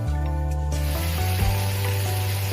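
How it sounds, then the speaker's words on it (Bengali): Mustard paste and whole tempering spices sizzle steadily in hot oil for a sour fish-roe and hog plum curry, a continuous close frying hiss over a low steady hum. "তেল গরম হলে তার মধ্যে ফোড়ন দিয়ে দিলাম, তারপর দিয়ে দিলাম সর্ষে বাটা"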